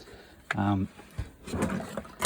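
A drawer slides open or shut in a camper van's electronics and miscellaneous storage, a short rattly thump under someone talking nearby.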